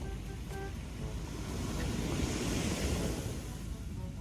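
Ocean waves wash onto a seaside shore at sunset in a continuous soft roar. Wind buffets the microphone, and the surge swells slightly louder midway before easing again.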